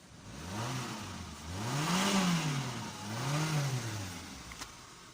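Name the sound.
Toyota Vitz car engine revving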